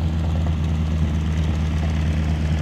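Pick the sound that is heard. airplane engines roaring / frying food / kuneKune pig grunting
airplane engines roaring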